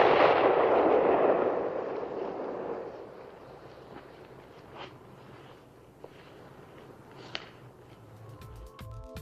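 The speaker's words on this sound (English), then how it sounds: "When Travis decides to shoot Yeller himself" A single gunshot booms from the dramatic dog-shooting scene in the film Old Yeller, a loud blast at the start that rolls off into a long fading echo, followed by faint scattered sounds.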